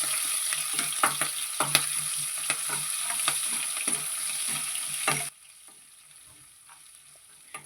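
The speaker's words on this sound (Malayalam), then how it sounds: "ഇനി ഇതിലേക്ക് 1 ടീസ്പൂണ് ഇഞ്ചി വെളുത്തുള്ളി ചതച്ചത് കൂടെ ചേർത്ത് കൊടുക്കുന്നുണ്ട്. നല്ലപോലെ ഒന്ന് മൂപ്പിച്ചെടുക്കാം." Green chili, crushed ginger and garlic fry with mustard seeds in hot oil, crackling and sizzling close up with stirring taps. The sizzle cuts to a much quieter background about two-thirds through.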